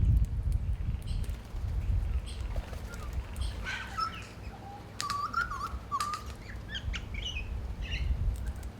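Wild birds at Loch Sport being fed, with scattered sharp chirps and squawky calls over a low background rumble, several birds close by calling irregularly.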